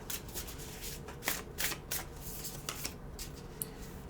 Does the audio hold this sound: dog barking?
no